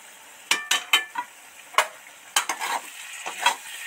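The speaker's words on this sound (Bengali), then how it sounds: "এবার দেখবো ভিতরে তো টুকবুক টুকবুক করে কেমন একটা আওয়াজ হচ্ছে" A covered pan of borboti aloo curry simmers on a low flame. The close, intermittent sound of stirring and clinking against the pan runs over a soft, steady sizzle, with no one talking.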